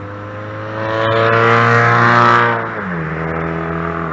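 A group of bikers' motorcycles pulling out nearby, with engine noise rising to a loud rumbling swell, then dropping in pitch as the bikes ease away and the sound levels off.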